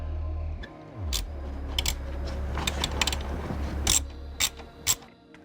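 Quick metallic ratchet clicks as a 10mm nut is loosened from the heat shield of an F30 BMW 335i xDrive with an N55 engine, close and fairly quiet with a low hum beneath.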